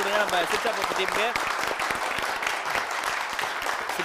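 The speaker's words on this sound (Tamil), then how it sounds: "ஒரு பெரிய கைத்தட்டல் கொடுங்க நம்ம சிச்சாபோத்து டீமுக்கு" A studio audience at a TV game show applauds the Sicha Pothu team with loud, dense clapping that fills the space, while a host's voice sounds briefly at the start.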